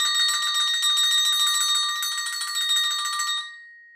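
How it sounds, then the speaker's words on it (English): A-Star double agogo bells, high and low, struck in a quick, steady run of strokes that blend into bright, sustained metallic ringing, close and loud, then fading away at the end. "you can strike these two bells to achieve the different sounds"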